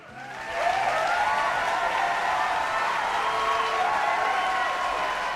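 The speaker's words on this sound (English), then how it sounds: "Round of applause, everybody." Studio audience applause rising quickly after a host's call and holding steady as a dense, continuous clapping at a fairly loud, even level.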